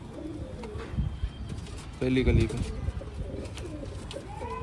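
High flyer pigeons coo softly in the background while someone talks over them, with a louder burst of cooing and fluttering midway.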